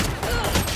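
Rapid bursts of gunfire crackle continuously in the video game Valorant, a dense volley of shots with no pauses.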